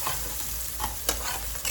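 Onions fry toward golden brown in a pan, a constant close sizzle with occasional scraping stirs of a spoon, no talk.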